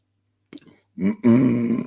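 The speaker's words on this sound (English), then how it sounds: "Pardon me. I got lots of burps." One person lets out a low, drawn-out burp with a rough, voiced grunting quality, preceded by a brief throaty click, heard close and fairly loud.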